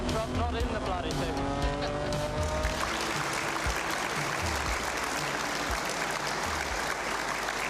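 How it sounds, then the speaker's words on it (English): A 1981 BMW race car flat out on Conrod Straight, its engine note rising through a sustained high-pitched run before blending into a broad roaring rush, with a commentator talking over it. "that BMW sounding very, very sweet"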